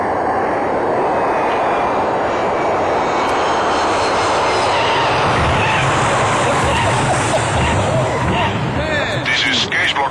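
A passenger airliner comes in for a rough landing, its jet engines roaring loud and steady throughout, with people talking faintly beneath the continuous engine noise.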